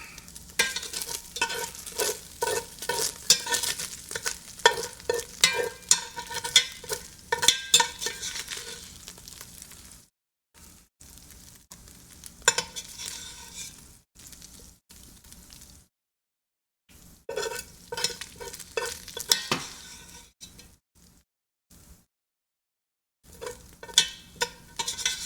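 Ground beef sizzling and frying in a pan while being stirred, a close, steady crackle with scraping bursts that stop briefly several times, and no talking.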